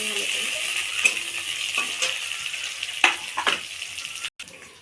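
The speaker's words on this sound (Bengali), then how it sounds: "ভালো পেঁয়াজটা ভাজা ভাজা করে নিয়েছি" Chopped onion fries in hot oil with cumin seeds, giving a continuous close sizzle with soft scraping stirs and occasional clinks, then a brief cutoff near the end.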